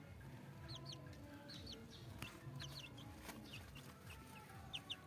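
Rhode Island Red chickens in a backyard farm cluck softly and repeatedly, with short higher calls scattered across a faint, noisy background and no talking.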